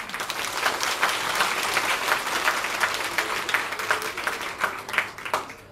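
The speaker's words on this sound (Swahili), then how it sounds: "naomba tuwapongeze kwa makofi mengi" An audience claps in sustained, even applause that carries through the whole stretch, with a few louder individual claps rising above the crowd.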